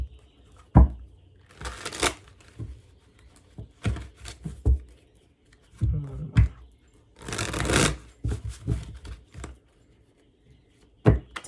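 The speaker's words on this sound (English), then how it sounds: "I'm gonna do a little more shuffling real quick." Tarot cards are shuffled in several bursts of papery riffling and slapping, close and fairly loud, broken up by quiet pauses, with no talk.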